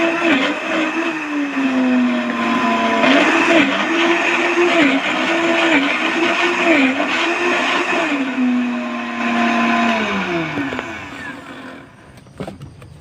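Loud, continuous whir of an OTTO BE-128S blender with a pitch that bobs up and down as ice is crushed, winding down and stopping near the end.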